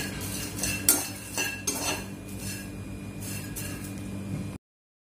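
Dried prawns (karandi) dry-roasting in a pan, with a steady scrape and clatter of a spatula against the metal, a few sharper clinks, and a soft, close background hiss.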